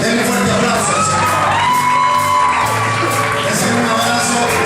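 A crowd at a church camp claps and cheers, with whoops and shouts rising over sustained applause and some music or voices underneath.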